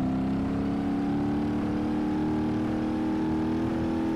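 A Toyota Sprinter in the BeamNG Drive driving game holds a steady engine drone with a slowly rising pitch, loud and close, with no talk over it.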